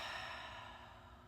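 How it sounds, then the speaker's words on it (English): A slow, deep exhale during a guided breathing exercise, a steady breathy rush that fades gradually over about a second and a half, close and alone with no talk. "one slow, deep breath in, and one slow, deep breath out"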